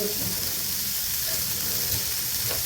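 Vegetables fry in hot oil for vegetable Maggi noodles, giving off a steady, close sizzling hiss that runs unbroken for the whole stretch.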